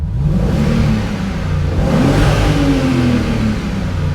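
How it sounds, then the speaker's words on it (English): A crash-damaged 2003 Audi C5 RS6 twin-turbo engine revs up hard and drops back, its pitch sliding upward under a steady loud rumble, close by. "I will give her a couple of revs here."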